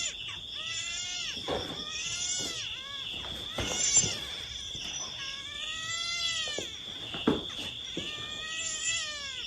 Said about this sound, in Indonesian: Suara kucing itu bukan?